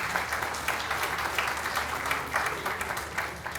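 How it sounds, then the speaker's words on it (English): Steady, dense applause from a large audience at a Hockey Hall of Fame event, welcoming American visitors, continuing evenly throughout without a break. "Round of applause for our American friends."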